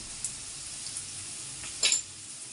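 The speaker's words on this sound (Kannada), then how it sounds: "ಈಗ ಚೆನ್ನಾಗಿ ಫ್ರೈ ಮಾಡ್ಕೊಳ್ಳಿ." Eggplant gojju ingredients frying in a pan, giving a faint steady sizzle with a brief louder burst of hissing and stirring near the end, no voices.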